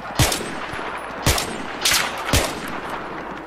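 Gunfire in the video game Battlefield 3, including a pump shotgun: four loud, separate blasts spaced about a second apart over a noisy battlefield background, with no talk.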